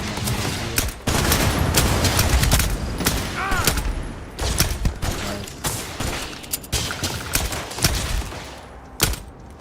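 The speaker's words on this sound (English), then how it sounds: "Someone's shooting at me over here." Rapid bursts of gunfire in Starfield ring out in close, loud volleys, with sharp repeated shots and brief pauses between firefights.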